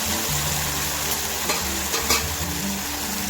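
Stirring fried pointed gourd and potato into a simmering vegetarian gravy in a pan: a steady oil sizzle and bubbling throughout, with a few soft scrapes and knocks of the spoon, close and continuous.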